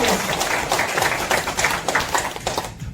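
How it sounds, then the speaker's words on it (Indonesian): A church congregation at a Catholic prayer fellowship's healing service in Malang breaks into dense, continuous applause, loud and sustained before fading at the close. "Tepuk tangan untuk Tuhan Yesus Kristus."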